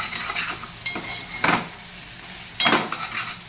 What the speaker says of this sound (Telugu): చూడండి, మన ఆనియన్స్లో బొమ్మిడిలో మంచిగా నూనెలో వేగినాయి